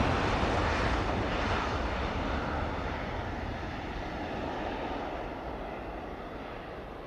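A Ryanair jet takes off and rotates at Manchester Airport, a broad, loud engine roar that dominates from the start and slowly eases as the aircraft climbs away, with no talk over it.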